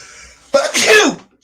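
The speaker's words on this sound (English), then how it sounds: "I got to sneeze." A single loud, close sneeze bursts out after a short quiet moment, then fades quickly.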